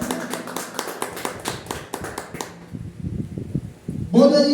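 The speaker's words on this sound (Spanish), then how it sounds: "Un aplauso al Señor, ahí está." A congregation at a church service claps hands in a quick, rhythmic stream of taps that fades out, followed by a burst of louder sound at the end.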